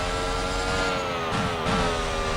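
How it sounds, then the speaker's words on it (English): A Formula 1 car engine at Australian Grand Prix qualifying gives a sustained, loud tonal whine that dips slightly in pitch midway, with brief rougher bursts rather than distinct crackles. "You can hear the engine popping and crackling."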